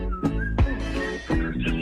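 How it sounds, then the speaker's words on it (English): Someone whistles a short melodic phrase from Tom Petty's Into the Great Wide Open, a few held and sliding notes over a low background hum, fairly close. "He's in there whistling it."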